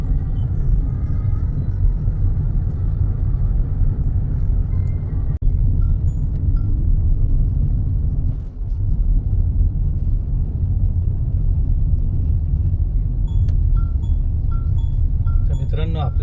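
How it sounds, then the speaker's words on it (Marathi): A Mahindra XUV700 driving in heavy highway traffic, heard from inside as a loud, continuous low road and engine rumble that holds steady, with faint tonal chimes near the end. "खूप ट्रॅफिक आहे."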